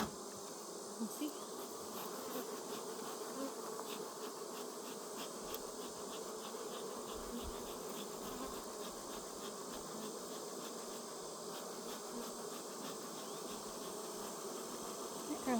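Honeybees hum around a hive in a thick, continuous buzz close by, with many wings droning together at a steady level throughout.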